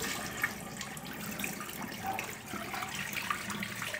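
Water poured off butter after washing it by hand in a kitchen, a steady, close splashing trickle that runs the whole time with no talking over it.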